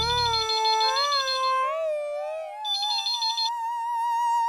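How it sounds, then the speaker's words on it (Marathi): A phone rings out with a bright, warbling electronic tune, a melodic ringtone that swoops between pitches, rising and falling and repeating, close and clear with no talking over it. "मग बबिता, त्याच्या दुकानावर फोन कर ना, कदाचित तिथे असेल"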